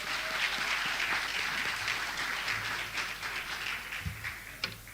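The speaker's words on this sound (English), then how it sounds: "A round of applause for them" An audience at a school debating competition final applauds the two debating teams, with a steady wash of many hands clapping that carries on for several seconds and fades a little toward the end.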